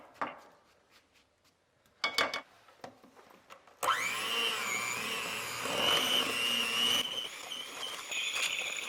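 Electric beaters whir loudly and steadily as they cream butter and sugar for miso chocolate chip cookies, following a few soft clicks and knocks, with the motor pitch shifting as the mixing goes on.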